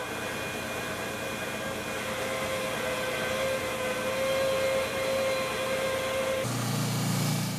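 A bandsaw cuts a wooden ring out along traced inner and outer lines, giving a steady, close, loud motor whine with a constant hum. The tone shifts abruptly near the end as the cut changes.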